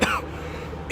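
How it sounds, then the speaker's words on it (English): A single short, rough cough bursts out at the start, followed by near silence and a brief final rasp. "I had an awful cough."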